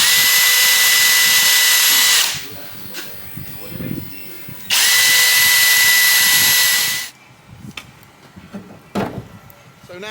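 A power drill boring pilot holes with a 2.5mm bit into a Land Rover Defender window frame, two loud sustained whining bursts of about two seconds each, separated by quieter handling noises.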